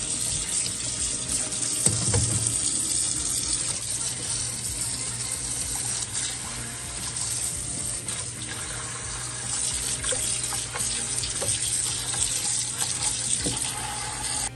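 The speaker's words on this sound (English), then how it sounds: "as soon as you have that drained out, you just dump it into the cold water to cool it down" In a kitchen, water runs and pours into a sink while a pot is drained during cooking of Thai au-suan oyster omelette, a steady splashing hiss with faint clinks, no talking.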